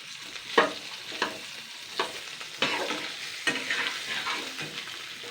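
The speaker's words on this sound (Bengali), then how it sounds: "এবার আমি আলুটা একটুকুনি হালকা করে ফ্রাই করে নেব, মানে সেদ্ধ করা আলু কিন্তু এটা" Boiled potatoes fry lightly in hot oil for a Bengali dumur aloo dish, giving a steady close sizzle broken by several sharp scrapes of stirring.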